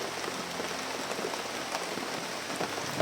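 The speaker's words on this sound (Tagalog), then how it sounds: "yung ulan ay lumakas" Heavy rain falls steadily in a continuous, even hiss of drops striking surfaces, heard from shelter. It stays moderately quiet and unbroken, with no voices.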